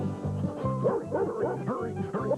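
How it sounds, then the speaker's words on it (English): A dog barks and yips repeatedly in a steady, fast rhythm, close and fairly loud, with a whimpering, vocal quality to each bark. "Oh, there's that dog."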